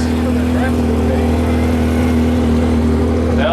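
Engine of a 1,200-pound modified lawn tractor at a 2016 truck and tractor pull, a loud steady droning hum with a strong tonal whine and rising revs near the end, under announcer-like speech.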